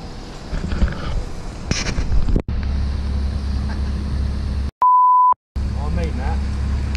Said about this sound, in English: I have to beep the F word out